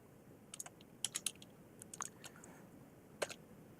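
Light keystrokes on a computer keyboard while a search is entered, a few quick clustered taps and scattered single clicks, close but faint over a quiet background hiss.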